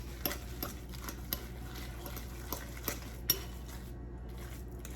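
A spoon scrapes and taps in a bowl while almond flour blueberry pie filling is mixed. The sound is quiet and close, a soft steady stir broken by a few sharp clinks.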